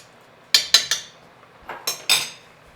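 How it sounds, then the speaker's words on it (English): A spoon scrapes and clinks against a pot of rice pudding in a few quick bursts, three close strokes followed by a pause and then three more, fairly near and alone with no talking. "Stirring the rice pudding."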